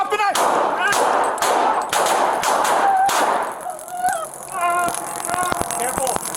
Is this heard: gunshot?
yes